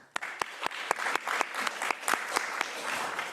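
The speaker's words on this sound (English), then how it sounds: "Round of applause." Round of applause from the audience at a machine learning workshop on AI for health, a dense patter of many hands clapping steadily for several seconds with a few sharper claps standing out at the start.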